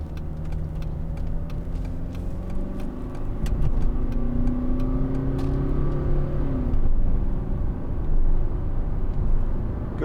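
A 2010 Mercedes-Benz CLC200 CDI diesel accelerates from inside the cabin, the engine note climbing and swelling through gears over ten seconds, moderately loud with road rumble and no voices.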